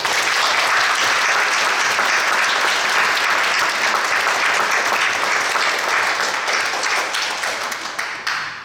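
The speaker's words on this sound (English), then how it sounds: "Let's give them a round of applause." An audience applauds the Corbett Foundation at a gala event, a dense, steady wash of many hands clapping that holds loud and sustained for most of its length before thinning slightly at the end.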